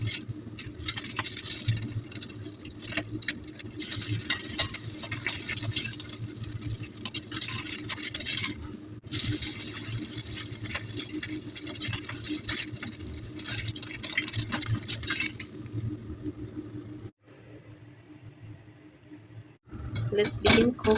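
Beef pan-frying in cooking oil produces a dense, continuous crackling sizzle up close. It breaks off briefly near the end, then resumes, and a voice talks faintly over it.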